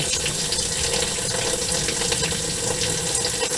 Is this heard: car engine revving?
no